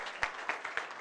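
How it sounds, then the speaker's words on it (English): Audience applause at a Catholic peace award ceremony, heard as a brief stretch of scattered, fairly soft claps with a few sharper hand claps standing out. "An applause for them"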